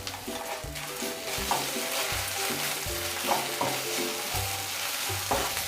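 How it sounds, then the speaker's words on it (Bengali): Eggplant and paneer masala frying in a pan with grated ginger, garlic and tomato sauce, a steady close sizzle with repeated scraping stirs of a spatula throughout. "ভালো করে ভেজে নেব।"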